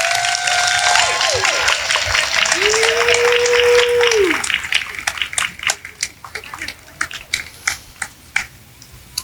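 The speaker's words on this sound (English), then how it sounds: "can we have one more round of applause for our TK through third grade recipients?" Audience applause at a school Golden Oak awards assembly for TK through third grade recipients, dense clapping fading into scattered claps toward the end, with a sustained tonal sound and some voices mixed in.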